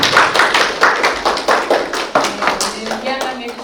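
Scattered, uneven clapping from a small lecture audience after a professor's open lecture on the historical Jesus, sharp individual claps near the microphone, with a voice speaking over them toward the end.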